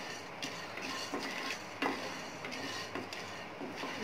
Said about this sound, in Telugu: ఇట్లా 2 మినిట్స్ ఫ్రై చేయాలా, కొంచెం ఎర్రగా అయ్యేంత వరకు ఫ్రై చేయాలి.